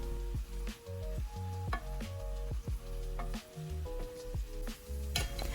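Brown and golden raisins fry in a pan for an Arabian chicken bukhari rice, giving a soft, steady sizzle broken by repeated clinks and scrapes of stirring against the pan.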